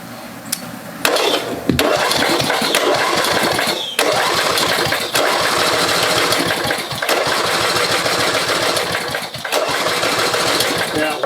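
The 8 hp Briggs engine on a 1988 Caldor MTD lawn tractor is kicked over again and again, a loud, rapid chugging that catches and dies in short runs, broken by brief pauses between attempts.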